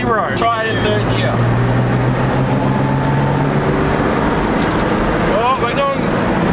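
A turbocharged car accelerating hard in third gear, its engine drone rising under loud road and wind noise while people talk over it.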